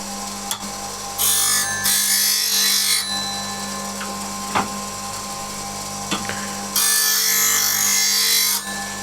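A bench grinder sharpens a woodturning scraper resting on its platform, letting out two loud, sustained hissing bursts of steel on the wheel over a constant motor hum, with a few quiet knocks between.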